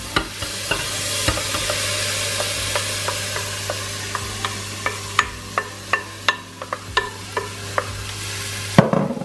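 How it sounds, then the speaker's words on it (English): Butter melts in a hot saucepan with a continuous low hum and hiss, punctuated by a regular series of sharp little crackles and ticks that grow more frequent toward the end. "Now the butter's going to hit that other side of the saucepan, so you'll see it melting straight away"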